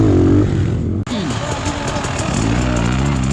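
A 2020 Beta 300RR dirt bike engine at a cross-country race at Virginia Motorsport Park, buzzing steadily and rising and falling in pitch as it revs, loud and close throughout with a brief cut near the start.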